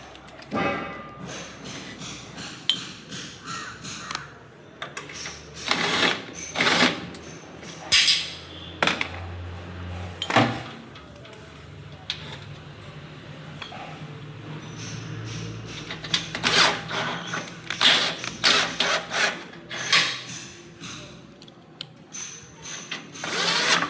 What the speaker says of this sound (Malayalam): എന്നിട്ട് ഈ സ്ക്രൂ ഡ്രില്ലുമിട്ട് ടൈറ്റ് ചെയ്യുക